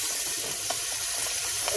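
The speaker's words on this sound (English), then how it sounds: "fill that pouch up with water" Tap water runs steadily into a Taco Bell taco seasoning pouch, a close, continuous hissing stream with a faint splashy rush and no voices.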